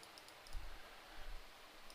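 A computer mouse clicks while painting in Affinity Photo, giving a few faint, quick, close clicks spread over a quiet background with no talking.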